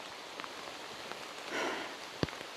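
Heavy rain falls steadily in wild chimpanzee territory in Africa, a soft broadband hiss with a brief swell of heavier patter midway and one sharp close drop or tap near the end.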